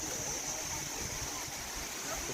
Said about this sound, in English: So, this is the Sticky Waterfall right here.